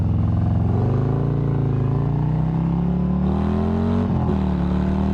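A Harley-Davidson Street Glide ST with the 131 engine accelerates hard. The loud, close exhaust note climbs steadily in pitch through the gears, with a brief shift dip near the end.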